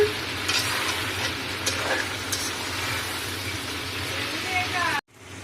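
Goat meat curry with green chillies frying and being stirred in oil, a steady close sizzle with scraping stir strokes throughout, then cutting off abruptly near the end; voices talk faintly underneath.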